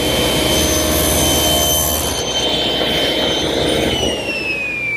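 Table saw with the blade set half an inch high cutting a tenon on a chaise lounge leg: a loud, dense whirring roar with whining tones that drop slightly in pitch as the cut ends.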